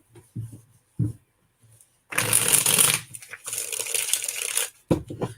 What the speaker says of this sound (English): You guys can probably hear I'm shuffling these